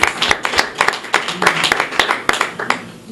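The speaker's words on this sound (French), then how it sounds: "Nous allons applaudir pour lui." An audience at a Congolese music awards ceremony claps in a loud, close, brisk burst of individual hand claps, tight and rhythmic for about three seconds.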